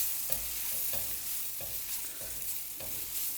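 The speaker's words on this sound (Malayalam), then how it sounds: "ഇതെല്ലാം നന്നായിട്ടൊന്ന് മിക്സ് ചെയ്ത് ഇതിൻ്റെ പച്ചമണെല്ലാം മാറുന്ന വരെ നന്നായിട്ടൊന്ന് വഴറ്റി കൊടുക്കാം" Chilli powder and chicken masala sautéing in a pan for a Kerala-style chicken curry: soft hissing sizzle with regular spatula strokes about every half second, fairly quiet and unaccompanied by speech.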